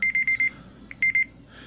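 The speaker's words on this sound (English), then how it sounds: "Why did you set a timer for 3 seconds?" A phone timer alarm beeps in quick bursts of short, high electronic tones, pausing briefly before another run of beeps.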